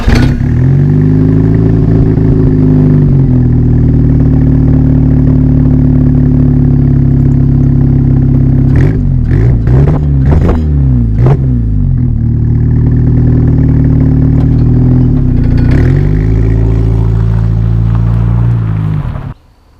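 A car engine fitted with homemade DIY exhaust headers, naturally aspirated and tuned for daily driving, idles steadily and close with a deep, even drone, broken around the middle by a few quick revs and one more later.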